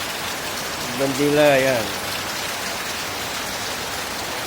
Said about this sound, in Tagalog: Ang ulan dito sa amin, sa Tarlac City.